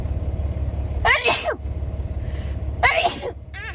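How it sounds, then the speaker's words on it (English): Two sneezes, each a sharp close burst with a quick intake, about two seconds apart over a steady low truck engine rumble inside a cab. "have to sneeze."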